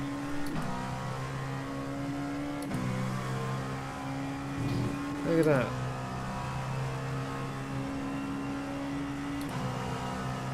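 Dallara P217 prototype race car engine lapping Monza in a racing video game, a steady droning engine note broken by short shifts and revs, with someone talking over it.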